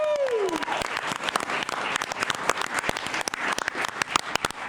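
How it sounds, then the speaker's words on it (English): A Christmas Eve audience bursts into loud, sustained applause, dense clapping throughout after a voice trails off at the start, with a few scattered calls from the crowd. "give yourselves a hand."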